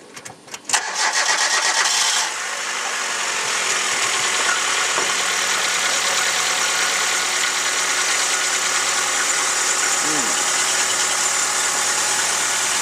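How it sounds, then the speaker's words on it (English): A car engine cranks with a short burst of starter noise, catches, then settles into a steady, even idle that runs loud and unbroken, during installation of a Blacksnake Systems Mark 5 dual-battery setup. "I'll just start the car for you and we'll show you the batteries linking."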